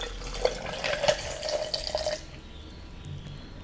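Water pours into a jar of ice, lemon wedges and strawberries, a near, bubbling trickle with small clinks for about two seconds before it stops and quiet follows.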